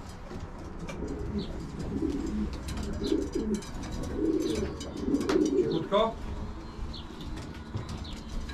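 Pigeons cooing in a breeder's loft, repeated low throaty coos close by with wing flaps and a few chirps, while a voice speaks briefly nearby.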